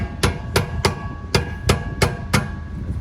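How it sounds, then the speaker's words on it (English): A sledgehammer drives a pan hard bar into place on a car suspension, landing six sharp metallic blows at a steady, slightly uneven rhythm, each ringing briefly, close and loud with no talk. "you just get a sledgehammer so you don't actually damage the other side, and pretty much just hammer it into place where it needs to go"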